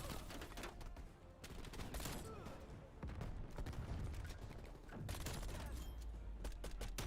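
Gunfire in Call of Duty: Black Ops Cold War, with dense, loud bursts of shots running throughout amid game noise and chatter, heaviest in the middle and final stretches.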